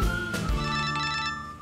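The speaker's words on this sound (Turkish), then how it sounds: "Aha telefon çalıyor." An electronic telephone rings indoors in a drama scene, a clear, close, bright repeating tone with layered harmonics that continues steadily throughout.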